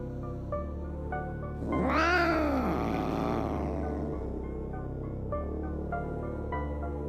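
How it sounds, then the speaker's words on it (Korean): A stray cat lets out one drawn-out, rising and falling yowl up close, heard over soft background music that continues after the cry. "뜬금없이 등에 무서운 얼굴 모양의 털을 가진 길고양이와 마주칩니다."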